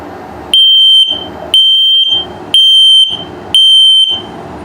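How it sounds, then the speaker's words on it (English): A carbon monoxide and LP gas detector in a 2022 Starcraft Autumn Ridge 26BH RV sounds its test alarm, four loud, piercing beeps of about half a second each, evenly spaced, with nothing else heard. "LP test is good, carbon monoxide coming up, and then the low battery alert."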